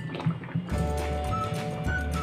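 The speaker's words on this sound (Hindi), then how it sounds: "इसमें मैंने थोड़ा गर्म पानी करके लिया है और इसमें मिक्स कर लेंगे थोड़ा सा" Hot water poured from a bowl into a cooking mint-coriander pulav, a steady liquid pour and sizzle close by with faint drips, no talking.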